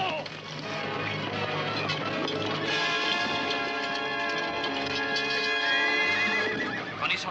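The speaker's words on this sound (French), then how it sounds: "Prenez son cheval, Don Nacho." A horse whinnies loudly and repeatedly over clattering hooves, in a dramatic sequence from the Zorro television series, the neighs rising and falling close by.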